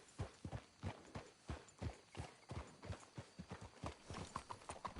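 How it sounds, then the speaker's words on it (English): Horse hooves clop steadily in Red Dead Redemption 2, a close, even walking rhythm of distinct hoof strikes continuing throughout with no talk. "Let's hitch the horses up ahead."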